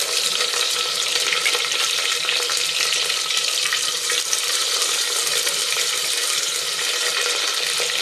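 Onions hit hot oil in a clay pot and fry with a continuous bright, hissing sizzle, close up and even in level throughout, with no voices.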